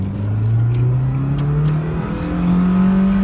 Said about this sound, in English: Yeah, that turbocharged, man. Mate, that triple turbocharged engine.